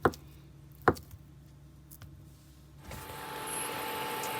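A knife cutting spring roll filling into skinny strips gives two sharp chops on a board a second apart, then a few faint taps, before a steady hiss of background noise rises.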